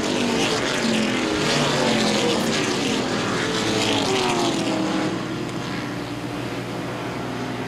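Late model race cars roaring around Baer Field Speedway during a feature event, a loud, continuous layered engine drone with shifting pitches as several cars run close together.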